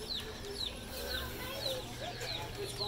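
Small chicks at a farm petting area peep and cluck in quick, repeated high chirps, close and fairly clear over a soft background murmur.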